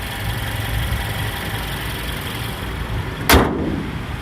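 A 2016 Toyota Camry 2.0 with a D4S engine idles with a steady low hum, and a brief sharp burst breaks in near the end.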